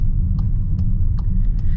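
Turbocharged four-cylinder engine of a 2025 VW Atlas SUV pulling under acceleration, a steady low rumble heard from inside the cabin with a few faint clicks over it.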